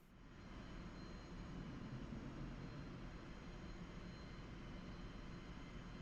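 Steady engine roar of an ornithopter aircraft in Microsoft Flight Simulator, a broad continuous rushing drone that swells in at the start and holds level, fairly quiet with no talk.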